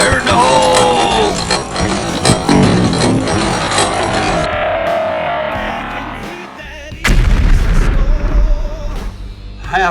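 A bazooka fires and explodes with a loud, dense, rumbling blast that rolls on for several seconds, followed by a renewed heavy burst of booming noise near the end.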